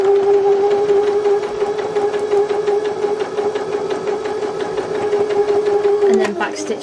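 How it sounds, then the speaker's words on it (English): Sewing machine running a seam and backstitching, a steady high mechanical whine with rapid ticking stitches, close and moderately loud, shifting pitch near the end as the stitch reverses. "go ahead and sew my first line, just making sure that I line that up perfectly"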